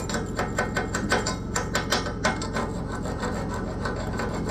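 An old finish being scraped off a large metal rack, with repeated short rasping strokes in an uneven rhythm, close and moderately loud against a steady background hum, with no talking.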